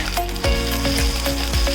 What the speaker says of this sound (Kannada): ಇದನ್ನು ಒಂದು 2 ನಿಮಿಷದಷ್ಟು ಕಾಲ ಚೆನ್ನಾಗಿ ಹುರಿದುಕೊಳ್ಳಿ.